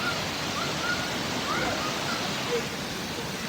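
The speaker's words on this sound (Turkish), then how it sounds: "Darende'ye çok yakın mesafede Gümkınar Şelalesi'ndeyiz." Günpınar Waterfall near Darende roars steadily nearby, its rushing noise constant, with faint bird chirps flicking through now and then.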